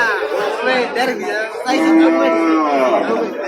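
A cow at a busy cattle market gives a long, loud, drawn-out moo close by, with bargaining voices and crowd chatter around it.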